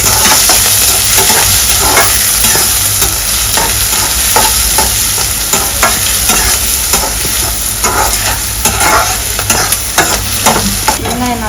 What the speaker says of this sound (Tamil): வெங்காயம் நல்லா வறுப்பட்டுடுச்சு.